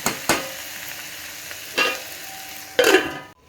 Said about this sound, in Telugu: నూనెలో ఫ్రై అవుతుంది